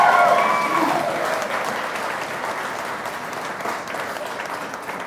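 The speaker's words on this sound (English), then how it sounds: "That's when you normally cheer." Wedding guests applaud and cheer at a couple's ceremony, starting with a loud burst of clapping and whoops that then settles into steady, sustained applause from a nearby crowd.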